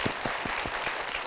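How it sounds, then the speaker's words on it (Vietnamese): Studio audience applause on a Vietnamese picture-puzzle game show, a brief burst of rapid rhythmic clapping marking the start of the second round, heard alone without talk. "Một tràng vỗ tay để chính thức vào vòng 2"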